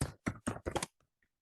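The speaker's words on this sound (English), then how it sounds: "typing into nothing." A few quick clusters of keystrokes on a computer keyboard, close and crisp, in four short bursts followed by near silence with faint stray clicks.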